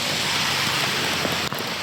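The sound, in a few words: rain falling outdoors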